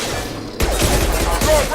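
Defense mechs open fire in Mass Effect 2: a rapid fusillade of sharp, loud gunshot bursts starting abruptly and repeating in heavy volleys, with game music underneath.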